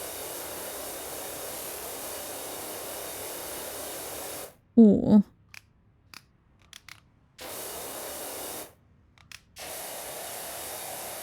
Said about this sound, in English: So like this bit I'm going to do with a small spray.